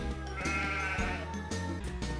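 Sheep on the farm in Harvest Moon: Magical Melody give a series of short, close game bleats with a musical background underneath.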